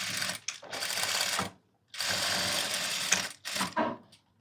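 Sewing machine stitching a lehenga, running in three bursts with short pauses between them, the motor whirring close and steady through each run.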